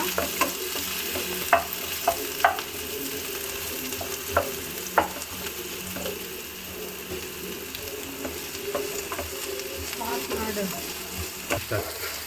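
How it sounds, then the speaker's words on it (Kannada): Onion and chilli frying in hot oil for a boiled egg dry roast, a soft steady sizzle with intermittent scraping clicks of a spoon stirring the pan, close and fairly quiet. "ಸ್ವಲ್ಪ ಹೀಗೆ ಆಯಿಲಲ್ಲಿ ಆನಿಯನ್ ಮತ್ತು ಚಿಲ್ಲಿನ ನೀಟಾಗಿ ಫ್ರೈ ಮಾಡ್ಕೋಬೇಕು"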